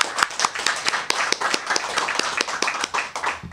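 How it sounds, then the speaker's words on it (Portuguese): A church congregation claps in praise of the Lord, many hands striking in a brisk, roughly rhythmic pattern, close and lively for several seconds with occasional sharper individual claps. "Vamos aplaudir o Senhor Jesus?"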